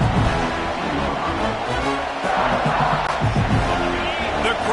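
A stadium crowd roars and cheers in the College Football 26 video game as the defense tries for a red-zone stop, a dense, loud wall of crowd noise with babble throughout.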